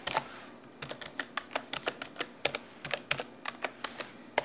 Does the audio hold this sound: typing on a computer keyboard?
yes